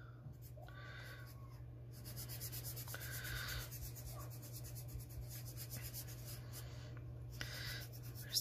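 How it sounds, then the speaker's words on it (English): Side of a sharpened pencil shading broad areas on paper, raspy back-and-forth scratching strokes in bursts with short pauses, close and soft over a low steady hum. "Side of a sharpened pencil allows you to cover larger areas quickly."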